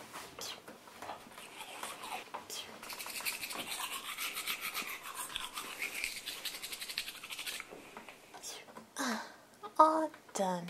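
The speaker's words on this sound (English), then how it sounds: "now I just need to brush my teeth" Teeth being brushed with a toothbrush, soft close scrubbing and rubbing strokes in a steady back-and-forth rhythm, fairly faint, with a voice speaking briefly near the end.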